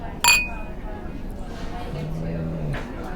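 Glasses clink once in a toast, a bright, sharp ring that fades quickly, followed by voices talking and a low hum.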